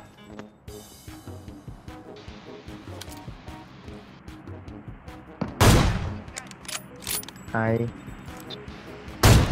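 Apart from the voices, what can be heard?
gunfire in a video game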